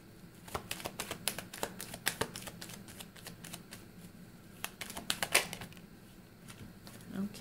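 Tarot cards being shuffled and drawn, a series of quick close riffling clicks and snaps at an uneven rhythm, heard alone and fairly quiet.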